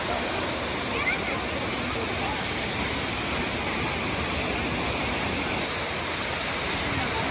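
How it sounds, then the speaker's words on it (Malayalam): Manneera waterfall roars as a dense, steady rush of falling water, loud and unbroken throughout, with no gaps or other distinct sounds. "ഇതാണ് നമ്മുടെ മണ്ണീറ വെള്ളച്ചാട്ടവേ"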